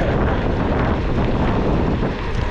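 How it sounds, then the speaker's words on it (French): Strong crosswind buffets the microphone while riding outdoors near Pierrefonds, a steady loud roar of wind noise filling the whole clip with no talk over it. "Et là, on a du vent de bras."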